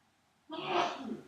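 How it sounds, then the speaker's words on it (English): After a moment of near silence, a single sneeze bursts out close by, breathy and fairly loud. "Having a sneezing fit in the middle of someone else's YouTube video."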